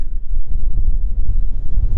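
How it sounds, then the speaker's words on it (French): Gusty desert wind in Morocco buffets the microphone with low rumbling rushes for two seconds, loud and continuous, no voices. "Parce qu'il y a quand même un petit peu de vent."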